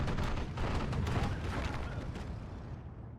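Dense rolling bursts of gunfire and booms from a Focke-Wulf fighter's strafing run in the war strategy game Steel Division 2, loud and continuous before fading at the end.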